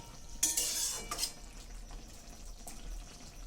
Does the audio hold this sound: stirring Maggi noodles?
yes